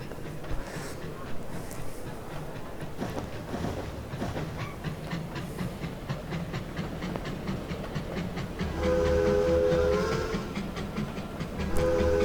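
Steam locomotive sounds from the Trainz 2019 simulator, a Union Pacific TTT-6 2-10-2, rhythmic chuffing and rolling clatter throughout, followed near the end by a sustained multi-tone whistle that plays loud and steady.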